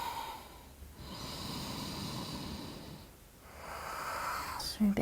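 Ujjayi breathing during a dynamic yoga flow: slow, audible throat-constricted breaths, a long hissing inhale and exhale with a brief pause between, close and steady with soft background hum.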